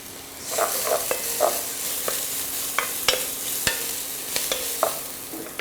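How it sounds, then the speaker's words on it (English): Chopped peppers sauteing in a pan, a soft sizzle under repeated sharp scrapes and taps of a spatula stirring at an uneven rhythm, close and alone. "just sauteing them up so that they get nice and fragrant and they get a little translucent"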